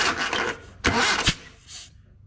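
A 1980 Datsun 720 engine, with no distributor cap fitted, cranks over in two loud, close bursts. Each burst is followed by a short fainter tail, with no talking.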